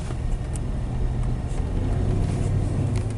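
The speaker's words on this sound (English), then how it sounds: "when this vehicle is at low idle speed, that's when it's like messing up" A 2006 Dodge Charger with a 5.7L engine idles low and rough, a steady close rumble with slight uneven wavering as it struggles at low idle speed, no voices over it.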